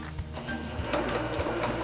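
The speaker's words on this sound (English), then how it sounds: "I'm going to sew directly across." A sewing machine stitching fabric strips together, its needle running in a quick, even mechanical whir with rhythmic clicks, close and moderately quiet for under two seconds.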